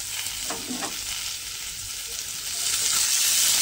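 Thin strips of potato fry in hot oil for a gourd-peel curry, giving a steady close sizzle that swells slightly louder toward the end, with a faint scrape of stirring early on and no voices.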